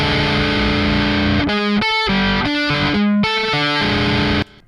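A distorted guitar chord with a clashing tritone, struck repeatedly in a choppy rhythmic pattern of short loud bursts with brief gaps, no voices.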